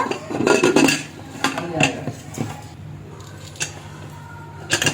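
Metal clanks and scrapes of a pressure cooker lid being fitted and shut, a cluster of close, loud knocks followed by a few lighter taps.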